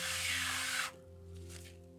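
Glass cleaner sprayed onto the crystal of a vintage 1980s Casio B815 digital watch: a loud, close hiss lasting just under a second, then cutting off to a quieter fizzing of settling foam over a steady low hum.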